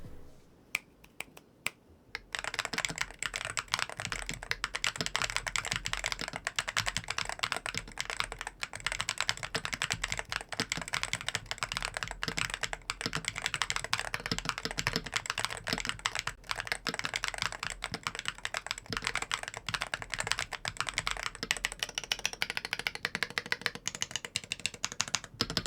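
Continuous typing on an MCHOSE Ace 68 Turbo keyboard with higher-pitched tactile switches and keycaps fitted, a dense, fast stream of close, crisp key clicks after a brief quiet start, with no talking.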